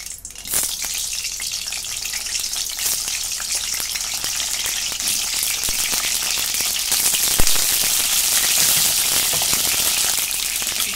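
Slit eggplants frying in about three spoonfuls of oil in a pan, a loud steady sizzle with crackling pops throughout, no talking.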